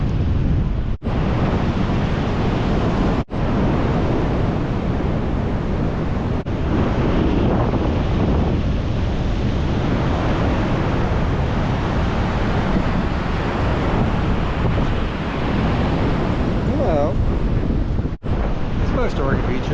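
Ocean waves rolling onto an Oregon beach, buried under constant wind buffeting the microphone, with a steady broadband rush and a few brief dropouts.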